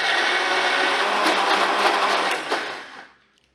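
A mixer grinder blending black-eyed pea and chili batter with a little water: a loud, steady whirring grind that holds for about three seconds, then winds down and stops.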